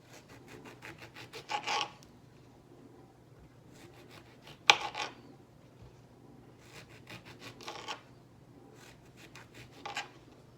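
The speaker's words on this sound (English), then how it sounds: "I'm just going to cut this skin off." A knife slices the peel off a grapefruit, giving rhythmic scraping, rubbing strokes in several bursts with a sharper snap in the middle, close and fairly quiet, with no talking.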